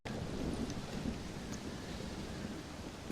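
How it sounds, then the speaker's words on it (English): A steady thunderstorm rumbles in Red Dead Redemption: Undead Nightmare, with continuous rain and low thunder rolling throughout and no voices over it. "Well, it's just the storm, John."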